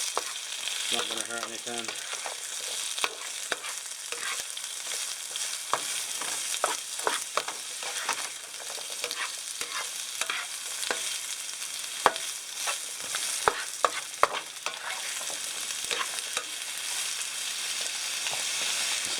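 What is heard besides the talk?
tomato sauce frying in oil while being stirred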